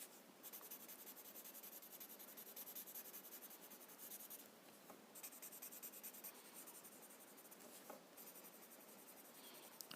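A chalk pencil rubs over paper in continuous circular blending strokes, a close, dry scratching hiss with brief pauses between passes.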